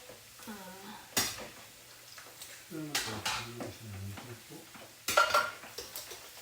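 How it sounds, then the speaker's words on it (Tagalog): Tea cream for buko pandan being stirred in a bowl, with utensil clinks and scraping against the dish, close and moderately loud, and a voice talking in between. "Haluin ko muna ang tea cream hanggang sa maging consistent po yung ano niya"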